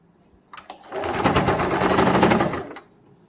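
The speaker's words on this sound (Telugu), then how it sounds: "ఇది కొంచెం ఫోల్డ్ చేసి దీనిపైన కుట్టేయడం." A sewing machine stitches folded piping onto a baby's summer frock in one steady, close whirring run of about two seconds, preceded by a couple of faint clicks.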